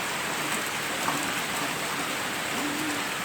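Heavy rain pours steadily at a rural countryside home, a dense continuous hiss of water drumming on surfaces, close and even throughout with no talk over it.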